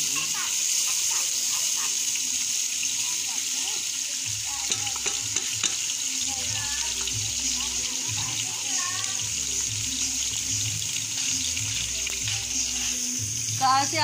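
Onion tipped into hot oil in a home kitchen sizzles and fries steadily, loud and close throughout, with stirring and faint voices underneath.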